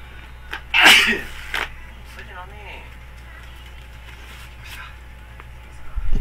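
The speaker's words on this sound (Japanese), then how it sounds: "くしゃみが止まらん。" A person sneezing while playing Tekken Tag Tournament 2: one loud, close sneeze, followed by a second, weaker sneeze a moment later, then quiet room noise.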